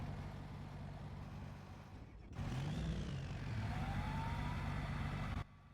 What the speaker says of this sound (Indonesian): Enggak Nona, itu suara kendaraan ini.